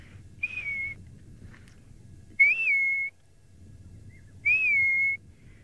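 A person whistles an imitation of a grey hornbill call: three clear, bright whistled notes spaced a couple of seconds apart, each a quick rising slide that settles into a held tone, over faint background hum.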